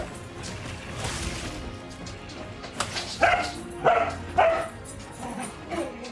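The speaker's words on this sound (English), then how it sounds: "My dogs are going bananas in the background" Several dogs bark in sharp bursts in a room in the background, mostly in the second half, with whimpers and yips mixed in over the quiet sound of a Monster Hunter Wilds game.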